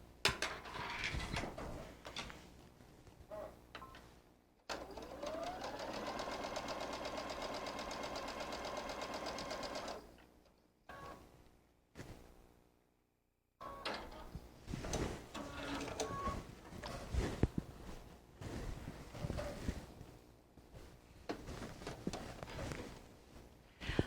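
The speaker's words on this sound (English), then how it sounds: "just place your fabric strips to sew the diagonal seam" A Brother sewing machine with a laser vision guide sews a diagonal seam joining fabric strips for quilt binding, giving a fairly quiet, steady mechanical hum with light clatter, with handling noises before and after.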